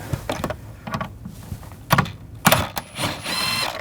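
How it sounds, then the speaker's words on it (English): A T40 socket ratchet removing a hook on a 2007-2013 BMW 328i, giving quick clicking pawl strokes in uneven bursts, close by, ending in a brief higher-pitched whir. "We're going to take this hook out, use a T40 socket."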